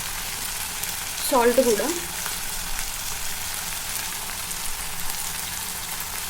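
Potatoes with turmeric and salt frying in a pan: a steady, dense sizzle continues throughout at close range, and a voice speaks briefly over it near the start.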